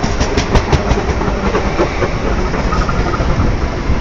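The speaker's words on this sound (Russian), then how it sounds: "Фирмовый поезд Лондон." A branded passenger train on the Odesa line rolls past close by, loud steady rumble with rhythmic clickety-clack of wheels over rail joints throughout, no voices.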